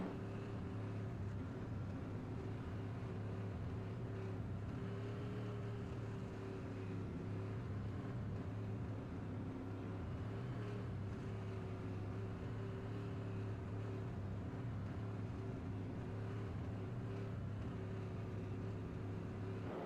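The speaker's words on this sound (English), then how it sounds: "Well, car's still running." A modified race car in the TRS Tour Modified Series at Gateway, its engine idling steadily from onboard, a low droning hum that holds constant and moderately quiet throughout.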